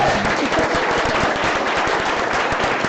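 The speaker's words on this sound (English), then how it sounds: "So, give another round of applause to" Audience clapping for a speaker at a lightning-talks tech meetup, a dense and steady crackle of many hands that stays even throughout, close and fairly loud.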